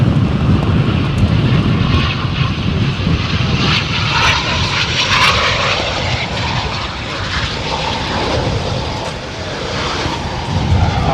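RAF Typhoon jet aircraft flying in at Coningsby, a loud, sustained roar that swells and wavers throughout with no speech over it.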